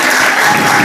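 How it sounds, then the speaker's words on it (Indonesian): An audience at an Islamic Quran exegesis examination session breaks into loud, close, dense applause in a brief burst without talk. "Terima kasih, tepuk tangannya semua."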